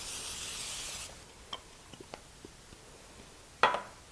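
Cooking spray hisses from a can onto a ceramic loaf pan in one sustained burst, then goes quiet except for a few soft taps and a short final spritz, all close and faint.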